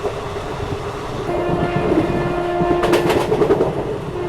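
The New Delhi–Howrah Special, with ICF coaches, runs at speed through Khurja Junction, a steady rumbling clatter of wheels on track under a long tonal horn, with sharper rattling bursts near the end.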